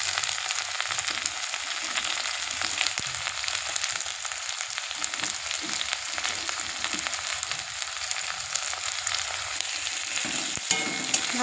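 Chopped onions and green chillies sizzle in hot oil, a dense, continuous frying hiss held close and steady for the whole stretch, with faint stirring scrapes and no voices.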